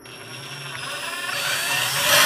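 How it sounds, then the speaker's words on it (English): A power drill whirs steadily, its pitch and intensity rising as it bites into the material, with no talking. "So the next step is to drill a hole just outside the line."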